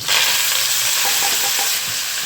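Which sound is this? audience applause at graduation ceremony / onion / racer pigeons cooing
onion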